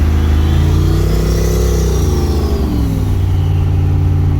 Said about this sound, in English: Get some turbo noises going on. Yeah, it's so loud over here whenever you really get on it, that exhaust coming out hardcore.